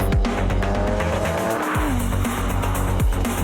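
A Bizzarrini sports car's naturally aspirated 5.7-litre V12 roars loudly at high revs, pitch sweeping up and dropping sharply between gears, close and aggressive with a brief tire squeal.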